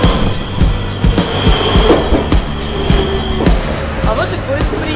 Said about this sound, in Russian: А вот и поезд приехал